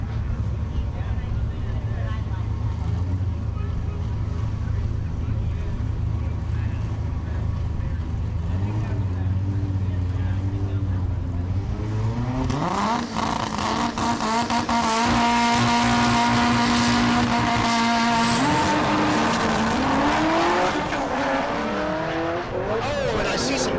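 Drag strip run at a Great Bend, Kansas dragstrip: an all-wheel-drive Civic hatchback races a second-generation Cadillac CTS-V, engines roaring loud and close with rising, shifting revs, while a commentator talks over the din.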